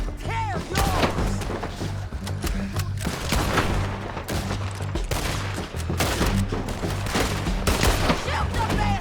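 Rapid gunfire rattles through a Red Dead Redemption 2 firefight, with dense overlapping shots and booming reports that run loud and nearly continuous, while shouted voices surface briefly among the volleys.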